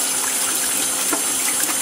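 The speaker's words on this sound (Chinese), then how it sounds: "跟住又冲水，洗到最后尾呢转咧，要慢慢洗，要洗到好干净嘅" Running tap water pours steadily over pork intestine being rinsed clean in a kitchen sink, a constant close gush with no talk.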